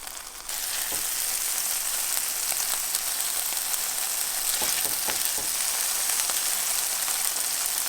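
Beef birria meat is laid into a hot pan for quesabirria and erupts into a loud, steady hiss and crackle that starts abruptly and stays constant, with faint pops throughout.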